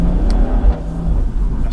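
A 420 BHP BMW M240i tuned with a JB4 pulls hard, its engine giving a loud, close, steady rumbling drone with shifting tones throughout.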